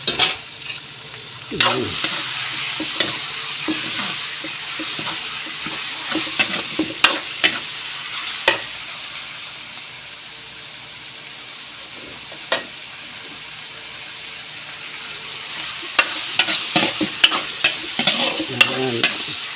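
Meat for dinuguan sautéing in a pan, steady sizzle broken by sharp spatula scrapes and clacks as it is stirred, quieter in the middle and busier again at the end, with a short spoken word.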